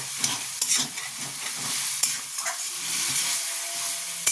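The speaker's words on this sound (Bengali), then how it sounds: "অল্প জল দিয়ে এটাকে আমি কষবো।" Potatoes, drumstick stems and chopped tomato sauté in a pan with a little water, giving a steady close sizzle with scraping stirring strokes and brief clinks throughout.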